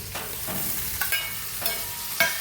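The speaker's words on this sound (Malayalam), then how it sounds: "നമുക്കിതിൻ്റെ കൂടെ തക്കാളി ഇട്ട് കൊടുക്കാം" Tomato goes into softened onions frying in a pan for sambar, a close, steady sizzle broken by a few sharp stirring clicks and scrapes, with no voices.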